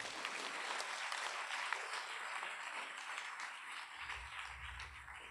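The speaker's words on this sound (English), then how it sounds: "may I enjoin everyone to give them a round of applause" A crowd at a University of Makati graduation ceremony gives the graduates a round of applause, a dense continuous patter of clapping heard from a distance and fairly quiet, with a low rumble joining near the end.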